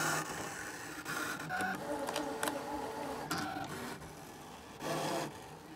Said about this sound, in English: the blade will adjust itself. You can hear it doing its thing and cut out for us